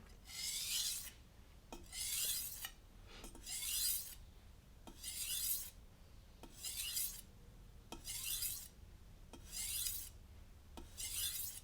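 A kitchen knife is drawn repeatedly across a grit 8 whetstone under light pressure, making steady raspy scraping strokes about eight times in rhythmic succession, close and clear with no talking.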